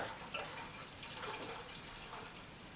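Raw milk poured from a container into a cooking pan, a faint, continuous liquid trickle and splash lasting a few seconds with no talking.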